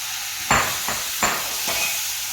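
Tomatoes and masala for a cauliflower curry are sautéed in a hot pan, with a few distinct scraping stir strokes over a steady close sizzle.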